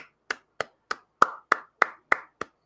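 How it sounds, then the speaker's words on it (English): A single person clapping hands during a live stream, nine sharp, evenly spaced claps close to the microphone in a quiet room. "Clap, everybody."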